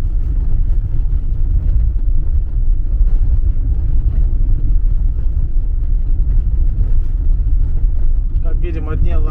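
Car driving on a patched, potholed road through a village near Tokaevo, a steady loud low rumble of engine and tires continuing throughout, with no pauses.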